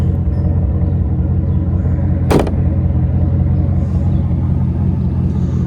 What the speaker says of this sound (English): Love that throaty exhaust.